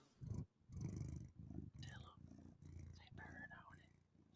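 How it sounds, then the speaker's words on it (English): A pet cat purring close by, a steady low rumbling pulse that rises and falls in rhythm, while someone talks over it throughout. "He's a kitty. He's a little kitty."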